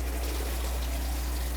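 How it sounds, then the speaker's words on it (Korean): Water running from the sink faucet inside a Hyundai Porest camper van, a steady, even hiss of flowing water close by with a low hum underneath. "짠! 물 나오죠?"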